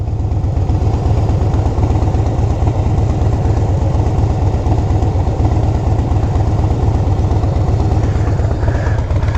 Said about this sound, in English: it's a 2015 Harley Softail Slim.